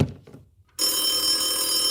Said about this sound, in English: there's another landline with a different ring to differentiate it from the first one